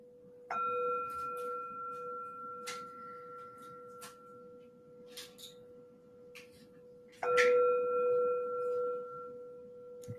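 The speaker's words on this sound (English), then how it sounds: "the tone of the bell" A meditation bell is struck twice, several seconds apart, each stroke ringing out as a clear, sustained tone that slowly decays in a quiet room.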